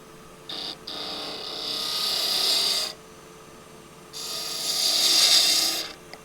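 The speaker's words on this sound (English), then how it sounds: "I might just round that over, and for that I'll use a 1/2 inch spindle gouge." A half-inch spindle gouge rounding over the end of a wooden carver's mallet on a lathe, two sustained hissing cuts with a brief pause between, loud and close over the machine's hum.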